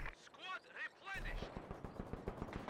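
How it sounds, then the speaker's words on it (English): Maxim machine gun in Company of Heroes 2 rattling off a rapid sustained burst of shots, preceded by whistling incoming shells and a sharp impact, in a busy battlefield mix. "Maxim doing a pretty good job of suppressing all these squads"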